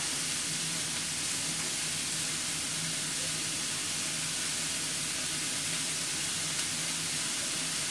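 Steady broadband sizzle of beef and vegetables frying in a skillet, a continuous close hiss throughout with no talking.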